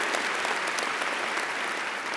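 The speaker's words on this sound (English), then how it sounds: "Give Georgia Tech a round of applause for doing that." A large audience at a Georgia Tech bachelor's commencement ceremony claps in a steady, even wash of applause. It sounds moderately distant and continuous, with no voices standing out.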